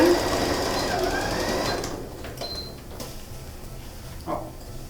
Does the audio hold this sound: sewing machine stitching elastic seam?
yes